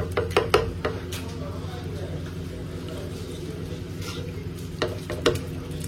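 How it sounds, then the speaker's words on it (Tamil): Eggs being stirred and scrambled in a pan while preparing Maggi noodles, giving soft scraping and a steady sizzle with a few sharper utensil taps near the start and end. "முட்டையை தனியாக கிண்டி எடுத்துக்குவோம்"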